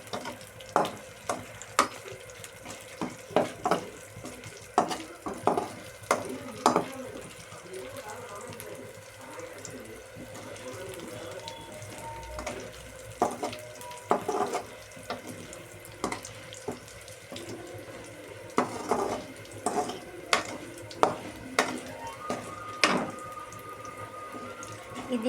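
Garlic fries in hot oil for a tempering over boiled drumsticks, a faint steady sizzle punctuated by sharp clinks and scrapes of a spoon stirring in the pan at irregular intervals.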